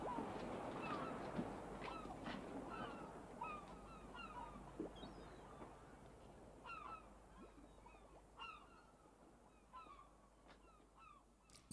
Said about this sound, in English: Those seagulls